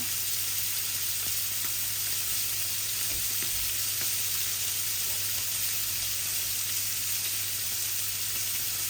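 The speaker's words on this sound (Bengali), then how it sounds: "আমি এক চামচর মতো তেল দিলাম তেলটা গরম হয়ে যাক" Cooking oil heating in a wok on a stove for a fish and radish curry gives a steady, even sizzling hiss that carries on alone without a break.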